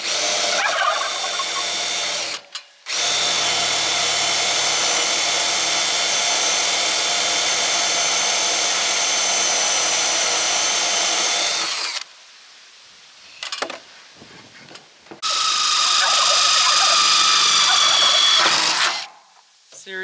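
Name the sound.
power drill drilling pilot holes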